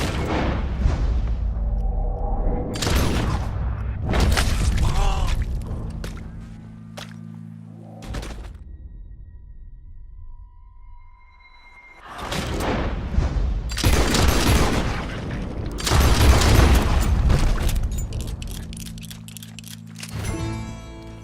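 Gunfire in the video game Red Dead Redemption 2, arriving in loud booming bursts and rapid volleys separated by quieter stretches, with heavy blasts clustering near the start and again toward the end.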